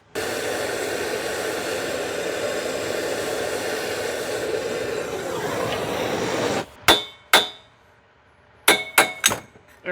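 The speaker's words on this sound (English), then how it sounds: "I'm going to apply a little bit of heat and smack it a few times" A steady hiss of heat being applied to a tight clutch part, then silence broken by about six sharp, ringing metallic hammer smacks, two spaced apart and then a quick cluster, loud and close.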